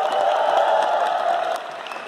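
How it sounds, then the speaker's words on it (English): Crowd at a YouTube creator camp panel in Mumbai claps and cheers, dense applause that fades slightly toward the end. "please give a huge round of applause to everybody here"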